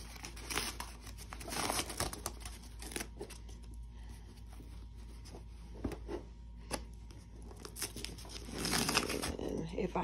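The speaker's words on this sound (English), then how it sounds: "I'll just take off the tear away that I can get off." Tear-away embroidery stabilizer being ripped off a hooded towel, heard as close, intermittent crinkling and tearing rustles in short bursts.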